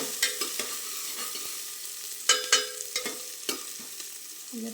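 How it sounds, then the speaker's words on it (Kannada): Onions fry in a pan for pulao, a soft sizzle under a series of sharp scraping stirs and spoon taps on the pan, with no talk. "ಈರುಳ್ಳಿ ಚೆನ್ನಾಗಿ ಫ್ರೈ ಆಗಬೇಕು"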